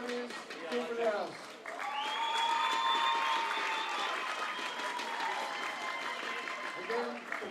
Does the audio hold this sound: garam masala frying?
no